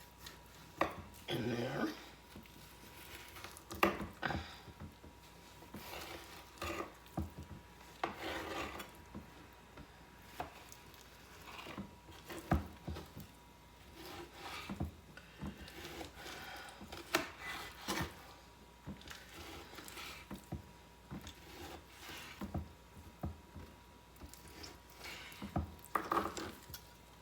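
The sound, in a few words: cutting up potatoes, carrots and onions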